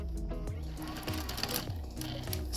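A sewing machine top stitching along the folded edge of a fabric face mask cover, a close, rapid mechanical whir with a rhythmic pulsing drone that runs steadily throughout.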